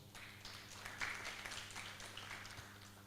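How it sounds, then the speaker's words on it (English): A meeting audience gives another round of applause for a presenter at a pandemic preparedness project inception meeting, a steady, fairly faint wash of clapping that holds for about three seconds over a low hum. "maybe you can give him another round of applause"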